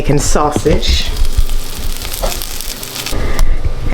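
Sausage frying in a pan for breakfast, a moderate crackling sizzle heard close up, with a voice talking over the start.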